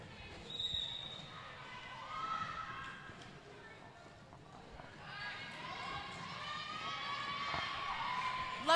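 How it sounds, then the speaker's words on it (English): A crowd of team supporters at a roller derby bout cheers and hollers continuously, loud and lively, with whistles and shouts rising over the steady roar. "you can hear the support from their team and crowd here, but it's pretty loud"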